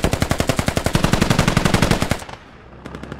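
Machine gun fire in the military shooter Squad: a loud, rapid, even string of close shots for about two seconds, then a short pause and a second brief burst, with no talking.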